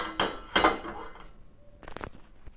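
A cooking pot is taken out in a home kitchen to make Maggi noodles, giving a few clanks and clatters of metal cookware, followed by a sharper knock near the end, nearby and moderately loud.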